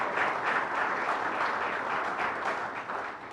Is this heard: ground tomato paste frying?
no